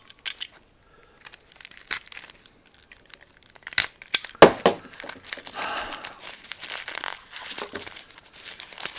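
Tissue paper inside Kickback Transformers movie toy packaging is crumpled and torn open up close, starting with sparse rustles and then swelling into dense, continuous crackling and tearing.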